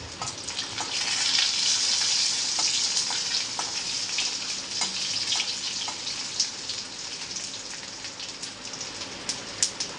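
Cumin seeds and dried red chillies fry in hot oil, a dense continuous sizzle with scattered sharp pops, steady and fairly close throughout.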